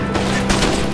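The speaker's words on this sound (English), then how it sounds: "the gunfire is real" Gunfire from the video game Northwind during the defence of a fort: a quick cluster of sharp shots cracks out mid-game at moderate loudness, with no talk over it.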